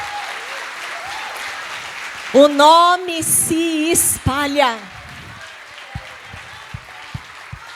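A church congregation applauds in sustained, dense clapping that fills the whole stretch, while a voice speaks and sings over it in the middle.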